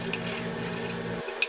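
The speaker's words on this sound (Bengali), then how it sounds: "আমি আরও ডিম ভেজে নিচ্ছি।" Eggs frying in a pan of oil, being prepared for an egg and lentil curry; a steady low sizzle and crackle runs throughout with faint stirring and a light utensil tap near the end, no voices.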